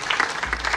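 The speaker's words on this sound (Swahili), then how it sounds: "Pigeni makofi tena." Brief burst of audience applause at a Safaricom prize-giving event, dense clapping throughout with a low hum entering partway.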